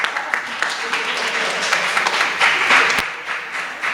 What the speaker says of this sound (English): round of applause for Anya.